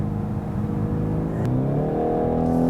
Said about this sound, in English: Reasonable engine noise. It's surprisingly good for a 4-cylinder motor